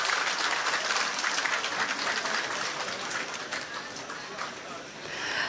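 Dense, sustained audience applause in a large gathering at a public ceremony, steady loud clapping from many hands throughout with a few sharper claps standing out.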